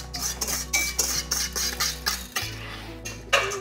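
A utensil stirs custard mixture for crème anglaise, milk and egg, in a pot or bowl, with repeated clinking scrapes in a steady rhythm, close and clear, and a low background hum underneath.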